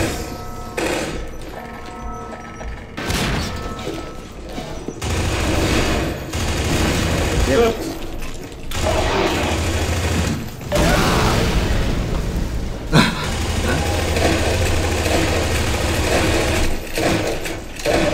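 Gunfire in Half-Life 2 Deathmatch, played at a LAN party: rapid automatic bursts and sharp single shots crackle in uneven volleys, with brief pauses between bursts and some talk mixed in.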